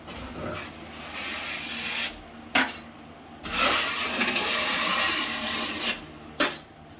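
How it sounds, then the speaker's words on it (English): A blade swiped over a seam in overlapping strokes gives long, hissing scrapes, about three or four broad passes with brief pauses and sharp clicks between them, near and loud, with no talk. "Always make sure when you're swiping to overlap."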